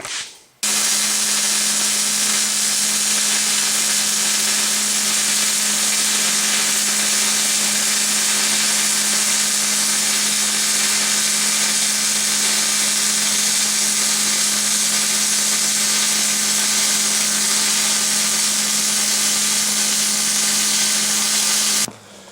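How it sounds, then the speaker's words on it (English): An arc welder steadily zaps joints on a Harbor Freight 20 ton press, giving one loud unbroken crackling buzz for about twenty seconds that starts and stops abruptly, with no voices. "Then get my welder out and start zapping them up."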